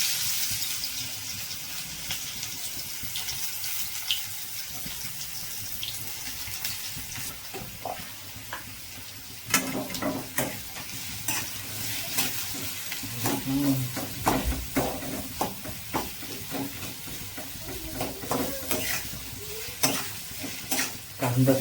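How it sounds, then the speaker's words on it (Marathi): Onion sautéing in a pan for a wild-greens dish, a steady close sizzle under repeated scraping and stirring strokes that grow busier and louder partway through, with no one speaking. "कांदा चांगला परतून घ्या."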